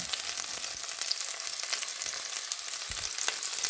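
Ginger, onion and garlic sautéing in a hot pan for a Filipino mussel dish, a steady close sizzle and crackle with occasional spatters and no talking.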